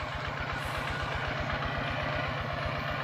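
A walking tractor engine runs beside a pond at the edge of a rice field, giving a loud, close, rapid and even thumping beat that continues steadily without pause and with no voices.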